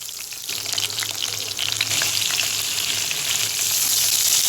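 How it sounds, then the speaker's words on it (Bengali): Long eggplant slices seasoned with turmeric and salt fry in hot oil in a pan, giving a loud, steady, close sizzle that continues throughout. "এবার একটা প্যানে তেল গরম করে বেগুনগুলো দিয়ে দিয়ে দিলাম"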